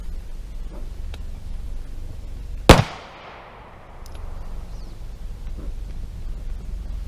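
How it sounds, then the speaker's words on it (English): A single sharp, loud gunshot from an auto-loading pistol fired under bed covers, ringing out with a short decaying tail against a low background hum. "So auto-loading pistol, shooting from under the covers, probably not a good idea."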